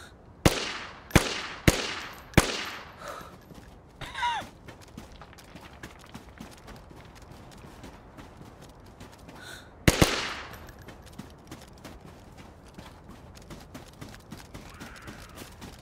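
Gunfire in the video game DayZ, four sharp, loud shots in quick succession, then a quieter stretch with faint movement before one more loud shot and a lingering ambient rustle.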